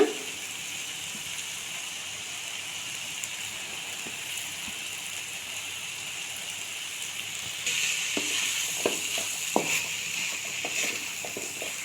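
Cooked rice for corn rice being gently stirred and mixed in a frying pan, a steady soft sizzle throughout with light scraping and tapping of the spoon growing more frequent toward the end.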